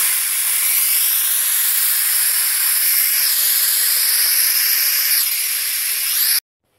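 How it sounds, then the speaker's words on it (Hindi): Steady, loud, close hiss of steam escaping as pressure is released from a pressure cooker of rajma, continuous for about six seconds before cutting off abruptly. "अभी हम इसका प्रेशर करते हैं रिमूव"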